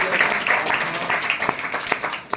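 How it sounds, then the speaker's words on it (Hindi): An audience at a church convention gathering in Chhindwara claps briefly, a scattered, moderately loud patter of hands with a few sharper individual claps standing out over a couple of seconds. "हम ताली दे सकते हैं।"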